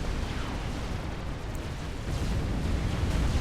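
Battleships blowing apart in a Supreme Commander 3v3 match, a dense, continuous roar of overlapping explosions and rumbling blasts that stays loud throughout and swells slightly toward the end.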